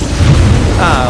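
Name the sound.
car engine started with turbo button, from video game GTA 5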